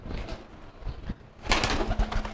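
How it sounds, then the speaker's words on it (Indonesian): A crested backyard pigeon coos softly while being picked up by hand, low throaty calls mixed with rustling and handling noises close to the microphone, growing busier toward the end. "Saya ambil dulu merpatinya."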